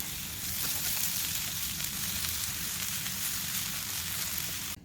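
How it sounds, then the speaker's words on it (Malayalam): A steady dry sizzle of grated coconut and pepper roasting in a hot pan, even and continuous throughout, up close with no voices. "ഇതെല്ലാം അതും കൂടി നല്ലോണം ഒന്ന് വറുത്തെടുക്കണേ"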